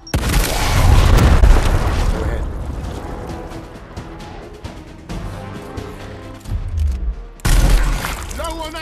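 A frag grenade thrown and detonating in the Gears Tactics video game: a loud, heavy boom with a rumbling burst, then quieter battle noise and a second blast near the end, with game voices calling out around it.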